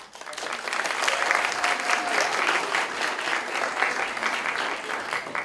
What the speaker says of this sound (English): Please give him a big round of applause for his first KAIST 1